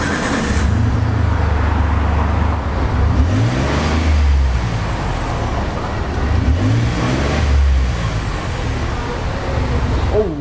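A 2017 Ford Expedition's twin-turbo engine, rated at 310 horsepower and 365 pound-feet of torque, revs in several rising and falling swells over a steady, loud idle rumble, with no talking.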